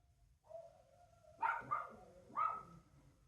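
Dogs barking in a few sharp bursts at moderate distance, with a higher yelp mixed in, during quiet indoor crafting.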